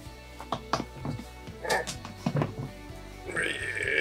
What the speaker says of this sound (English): Let's get the lid open up.